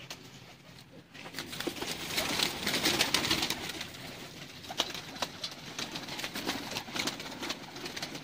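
Breeder pigeons coo on a rooftop loft in Sialkot, soft repeated low coos mixed with wing flutters and light shuffling, fairly close and moderately quiet.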